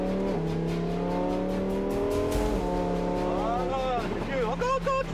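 Sports car engine accelerating through rising gears in Miami, loud and close, with a deep throaty roar that drops at each shift and climbs again, passengers' voices chatting over it near the end.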